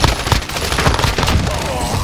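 Rapid bursts of automatic gunfire fill a Call of Duty match, a dense, continuous crackle of shots up close with no pauses.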